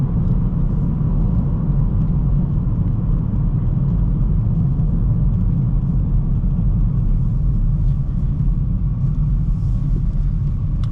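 A Hyundai i30N Facelift is driven with a cold engine, producing a continuous low rumble and road drone inside the cabin that holds steady for the whole stretch, with nobody speaking.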